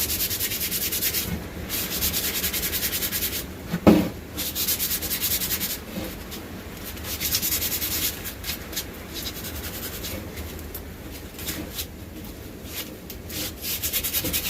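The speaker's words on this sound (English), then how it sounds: "And then sand this a little bit where I drilled." Sandpaper rubs back and forth over a drilled spot on a wooden hiking stick, a close, continuous scratchy rasp with uneven strokes and a brief knock partway through, no talking.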